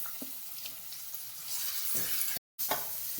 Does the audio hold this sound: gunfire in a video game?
no